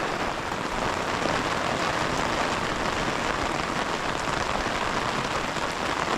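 Heavy rain pours steadily in Konkan, a dense, even hiss of drops with no breaks and no voices.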